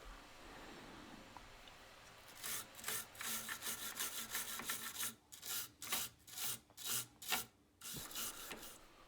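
A brush scrubs contact cleaner into the socket of a 486 DX2 PC motherboard, with a run of quick, close, rhythmic bristle strokes that repeat in short bursts after a quiet start.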